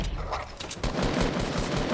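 Gunfire in the video game Fortnite: a quick burst of rapid shots cracks out after a short lead-in, loud and close over a dense game soundscape.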